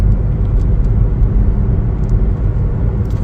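A 2026 Chevrolet Trax on a test drive gives a loud, steady low rumble of engine and road noise, heard continuously without a break.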